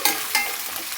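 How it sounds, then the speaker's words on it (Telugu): Mint leaves stirred into ginger-garlic paste frying in oil, a brief close sizzle with a couple of quick scraping stirs and no talking. "పుదీనా కూడా వేసుకొని బాగా కలుపుకుందామండి."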